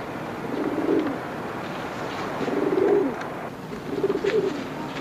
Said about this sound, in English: What about these pigeons?